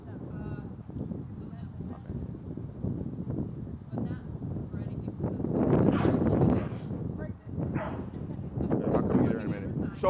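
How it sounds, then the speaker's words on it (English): A dog barks repeatedly during a group dog-training class, several close, sharp barks mixed with scuffling and people talking over them. "What's she barking at, Bree?"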